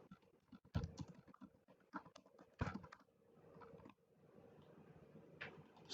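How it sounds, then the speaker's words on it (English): Keys tapped on a computer keyboard while text is entered in a web template editor, an irregular series of soft, close clicks in short bursts separated by pauses. "let's type something here."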